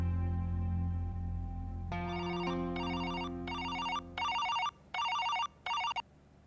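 A telephone rings in repeated electronic bursts, starting as one long tone and then breaking into five or six short trilling rings with brief gaps.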